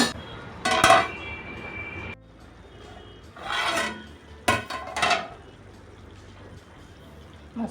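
A metal lid scrapes and clinks onto a pan of Malvani-style tender cashew and potato vegetable, three rasping, clattering contacts separated by quiet low-flame simmering.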